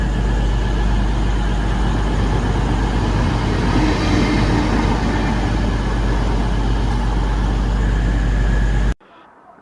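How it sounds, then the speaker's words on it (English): A freight train rumbles steadily and loudly past a station platform at Stoke-on-Trent, a continuous heavy roar of wagons on rails that carries on for several seconds before cutting off abruptly. "Train now doing past is a freight train."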